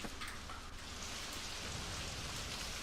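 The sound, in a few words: rain at night in video game Super Mario Odyssey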